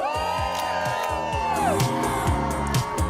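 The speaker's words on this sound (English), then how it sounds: "Great crowd out there on a Friday morning." A large outdoor crowd at the TODAY Show on a Friday morning cheers and whoops continuously, a dense wash of voices with overlapping tones and shouts.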